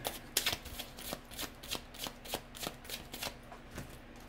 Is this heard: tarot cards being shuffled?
yes